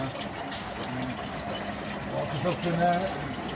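Water rushes steadily through a filter that feeds a mountaineering hut near a Cumbrian quarry, a continuous close gushing flow with a faint voice under it.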